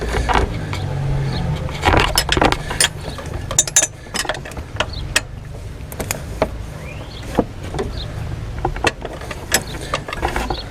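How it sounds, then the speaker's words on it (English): A ratchet cranks a 14mm nut loose on the air conditioning pulley of a Mitsubishi Shogun / Montero / Pajero Sport, giving close, uneven bursts of metallic clicking and clatter in an engine bay with no talk. "I'm just going to crack this 14mm nut off, just to make it so that this pulley can be moved."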